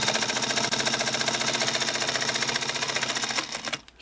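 A Singer 221 Featherweight sewing machine runs steadily at close range, its fast even clatter carrying a rattling bobbin case, before slowing to a stop near the end.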